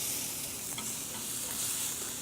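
Chopped green tomato or apple pieces sizzling as they hit a hot pan, a steady broadband hiss of frying held at an even level with a soft clack near the start, no voices.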